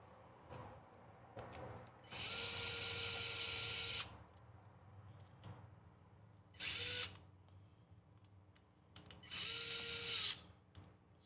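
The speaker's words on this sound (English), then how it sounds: "And then we're going to put the screws back in." A power drill drives screws back into the bracket of a TRX4M RC truck in three loud whirring bursts with pauses between, the first the longest, with faint handling noises in between.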